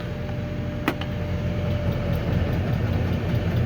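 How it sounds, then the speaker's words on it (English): A tractor engine runs steadily with its PTO engaged in a teff grass hayfield, a continuous low mechanical drone with one brief sharp click near the start. "We're gonna turn PTO on."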